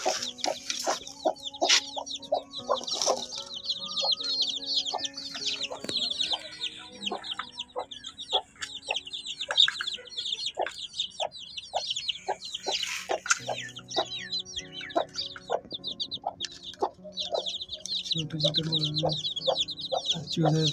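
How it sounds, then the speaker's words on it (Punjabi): Roosters and hens on a farm that also keeps rabbits and goats, with repeated clucking and short crowing calls throughout, close and fairly steady amid general barnyard ambience. "ਮੁਰਗੇ"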